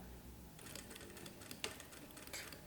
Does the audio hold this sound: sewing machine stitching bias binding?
yes